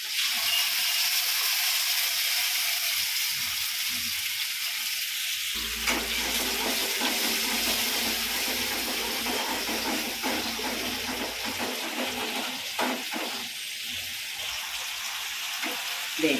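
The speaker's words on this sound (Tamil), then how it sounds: "இந்த அரைச்ச தக்காளியை ஊற்றுறேன்." Ground tomato pours into a hot pan and sets off a steady, loud sizzle and hiss of frying that continues throughout, with faint stirring and low kitchen rumble beneath.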